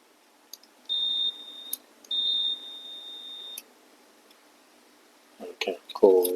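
Two short, steady high-pitched electronic beeps sound close by during bench repair of a PlayStation 4 Slim ADP-160FR power supply, separated by brief clicks and followed by a few faint knocks and handling noises.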